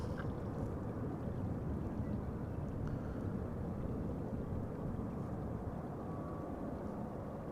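A passenger airplane lands at Amsterdam Schiphol Airport, its broad low roar rumbling steadily at a distance amid wind noise, with no voices.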